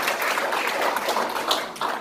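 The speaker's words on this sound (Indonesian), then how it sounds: "Tepuk tangan dulu bagi Tuhan Yesus ya." A church congregation in Kelapa Gading, Jakarta, applauds during a family blessing service, a brief burst of dense, even clapping from many hands, fairly close and without talk over it.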